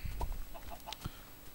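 A chicken clucks in a Minecraft-style video game, with several short, soft clucks and squawks over a steady background hiss.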